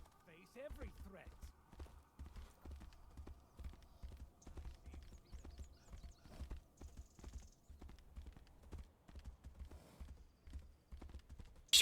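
Horse hooves clip-clop steadily at a brisk riding pace in the video game Tainted Grail, a continuous rhythmic beat running beneath someone talking over the game sounds.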